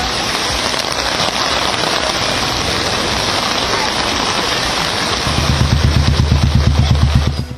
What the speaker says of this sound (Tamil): சென்னை, காஞ்சிபுரம், செங்கல்பட்டு மாவட்டங்களில் வெளுத்து வாங்கிய கனமழை.